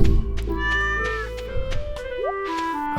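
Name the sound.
cat meowing in video game Stardew Valley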